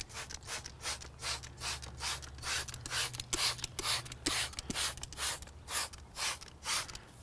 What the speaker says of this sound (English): we're going to take tire cleaner and we're going to spray that on the tire